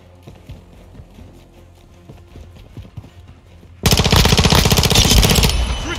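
Heavy automatic gunfire in a Call of Duty Modern Warfare 2 Domination match, starting after a few seconds of quieter scattered shots and clatter, then erupting into a loud, sustained rapid burst that runs to the end.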